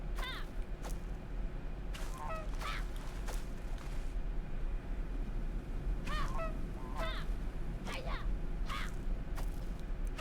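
Repeated goose-like honks from the video game Knights and Bikes, sounding in separate bursts of two or three over a steady background of game music and ambience, fairly close and clear.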